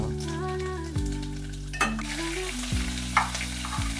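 Spoon stirring baby corn tomato curry in a sizzling pan, with a few scraping strokes over a steady frying hiss and background music.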